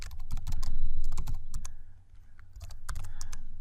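Rapid keystrokes on a computer keyboard, typing an entry into a search and entry program: a close, busy run of irregular clicks with a brief pause midway before the tapping resumes.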